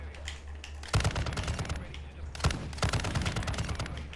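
Light machine gun fire in Modern Warfare 2 comes in two long rapid bursts of clattering shots, separated by a brief lull with quieter background game noise.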